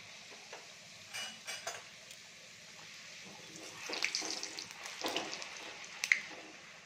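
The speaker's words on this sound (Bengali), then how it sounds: "এদিকে আমার তেল গরম হয়ে গেছে, এবার আমি একটা করে ভাজি।" Bengali luchi bread fries one at a time in hot oil, with soft bubbling that swells into louder, crackling sizzle bursts toward the end.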